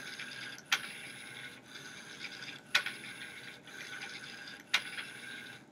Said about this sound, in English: I'm going to run a robot here. And what it's going to do is it's going to go forward and back like three times